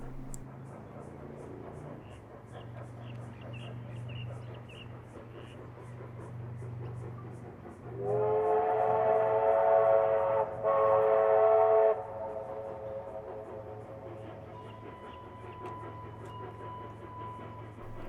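Steam locomotive 3265 in New South Wales sounds a loud, sustained chime whistle of about four seconds with a brief gap, over a low idling rumble; a narrator speaks before and after it.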